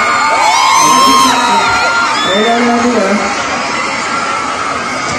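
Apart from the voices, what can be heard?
crowd cheering and shouting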